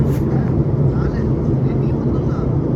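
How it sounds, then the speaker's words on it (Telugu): An airplane starting its takeoff, a steady low engine roar heard from inside the cabin, with faint voices in the background throughout. "ఇక్కడైతే ఫ్లైట్ అయితే స్టార్ట్ అయింది."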